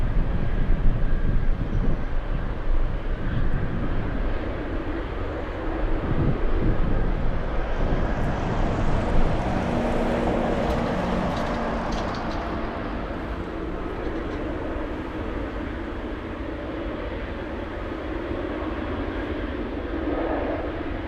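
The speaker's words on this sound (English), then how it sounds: "DC-10 making its way back to Elmendorf." DC-10 jet passing at Anchorage in gusty wind, heading to Elmendorf; a loud engine roar with a rising high whine that peaks midway, then a slowly fading rumble, with wind buffeting underneath.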